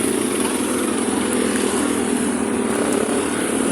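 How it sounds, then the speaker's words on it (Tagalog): Many motorcycles pass nearby on a road, blending into a loud, continuous engine drone that stays steady throughout, with no voices audible. "Dami mga motor. Grabe."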